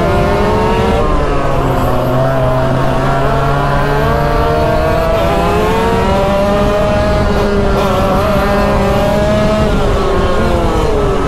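A go-kart engine drones on a karting track, its steady buzzing note rising and falling as the kart accelerates and eases off, loud and close throughout.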